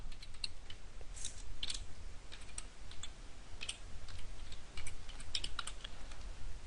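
Computer keyboard being typed on while an email address is entered during an Outlook 2010 POP account setup, faint irregular clicky keystrokes over a low background hum, with no talk.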